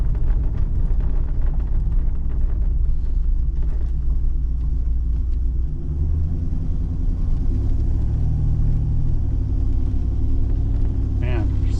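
Pontiac Grand Prix engine driving in overdrive, a steady low, bogged-down rumble from inside the car that holds constant for the whole stretch, loud and close with no speech over it.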